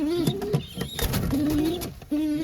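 Pigeons coo close by in low, wavering calls that repeat several times, mixed with short rustles and taps.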